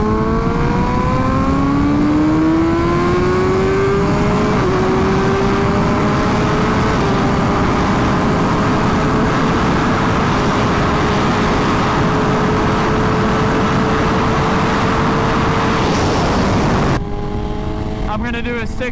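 A 2023 BMW S1000RR motorcycle at full throttle from about 60 mph, its engine roaring loud and close with steadily rising pitch through a gear change, then cutting off abruptly near the end.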